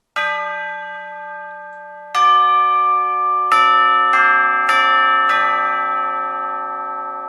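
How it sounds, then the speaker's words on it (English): A sampled tubular bells instrument strikes several times, the first two spaced apart and then quicker hits, each ringing out with long, bright, overlapping sustain. "you can hear tubular bells as they are"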